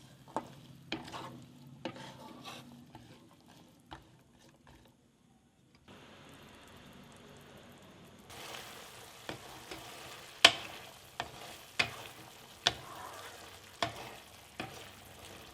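Boiled chana cooks in a pan of medium-thick gravy for Manipuri Channa Kanghou street food, sizzling softly while a spoon scrapes and stirs in a steady, rhythmic series of sharp knocks that grow louder toward the end.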